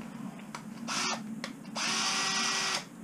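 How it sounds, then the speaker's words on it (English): A power drill whirs in bursts: a brief spin, a pause, then a longer steady run, close and loud. "this is the weaker drill of the ones we've got"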